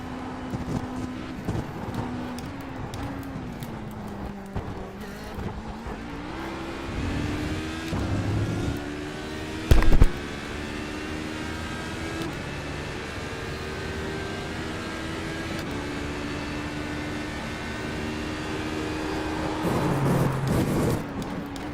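A race car at Le Mans in the iRacing simulator, engine droning steadily with smooth upshifts and pitch sweeps through cold-tyre first-lap driving, alone without voices.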